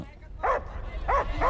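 Dogs barking in three short sharp yaps, one and then a quick pair, fairly close, with faint background noise between.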